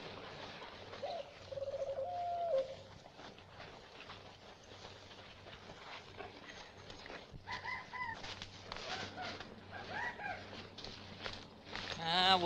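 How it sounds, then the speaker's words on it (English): A short bird call, reportedly a night redbird, rises a few times from a quiet outdoor scene, faint to moderate, with brief tonal chirps separated by soft rustling and background hum. "Oh, that's probably just a night redbird."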